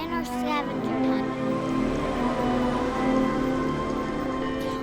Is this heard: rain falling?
yes